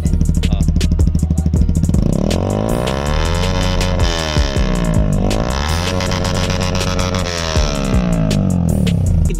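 A modified 2024 Yamaha R15M motorcycle with an Akrapovic full-system exhaust, loud and bassy, revving up and down close by with a rough, throbbing idle between pulls.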